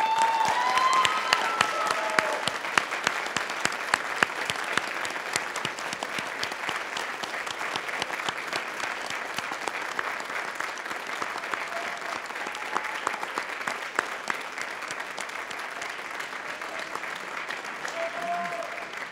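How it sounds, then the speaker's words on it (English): A large audience at a university spring convocation claps steadily for a long stretch, a dense, even patter of many hands that holds without pause. "Now it's your turn to honor them with your applause."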